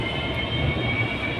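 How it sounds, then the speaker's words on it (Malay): Steady interior rumble of a moving LRT light rail train, a continuous broadband drone with a constant hum and no talk over it. "sekarang ni aku dekat dalam LRT guys"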